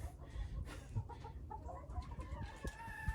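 Several farmyard chickens cluck and murmur in short, irregular bursts over a steady low rumble, staying close and at a moderate level with no talking.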